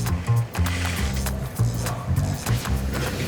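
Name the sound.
eyelet machine punching lace holes in shoe uppers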